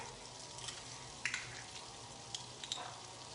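Garlic cloves sizzle faintly in a hot pan, a steady soft crackle broken by a few brief spatters and clicks, with no talking.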